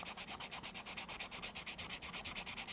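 A slicker is rubbed along a leather edge to build friction for a buckling cuff, giving a quiet, rhythmic back-and-forth swishing with about three strokes per second. It stays close and even, with no speech.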